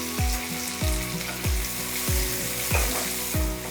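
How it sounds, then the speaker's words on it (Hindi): Two small vertically sliced onions fry in refined oil in a pan with a steady, bright sizzle. A utensil stirs them with regular scraping strokes about every half second, close by, and no one speaks. "अब इसमें मैं डालूंगी 2 छोटे प्याज वर्टिकली कट किए गए हुए।"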